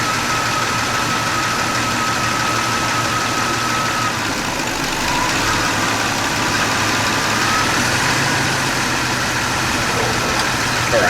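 A Jeep Cherokee XJ engine idles steadily at a slightly raised idle while its A/C compressor is being diagnosed, a continuous close rumble holding an even level throughout with no talk over it.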